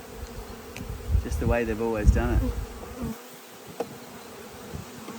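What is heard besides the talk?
swarm of honey bees buzzing in a hive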